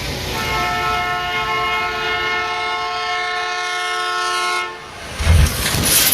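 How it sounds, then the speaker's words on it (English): A train heading into a snowbank sounds a long, loud, steady horn over a rumbling roar, then the horn cuts off and a heavy low thud and rush of noise follow near the end. "Train crashes into snowbank."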